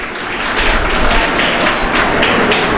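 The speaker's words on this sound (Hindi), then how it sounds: "एक बार जोरदार तालियां" Loud, dense clapping from a large crowd at a ceremony honouring body donors, a continuous, even roar of hands close by that holds steady without pauses or voices.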